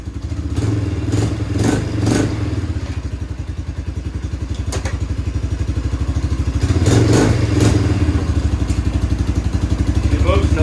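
A 1996 Polaris Magnum 425 ATV running under its own power, its engine chugging steadily with clattering, swelling briefly in revs as it moves back and forth, fairly close.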